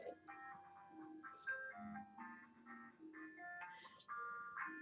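An ice cream truck jingle plays outdoors, a steady melodic tune of repeating bright notes carrying clearly and continuously with no talk over it.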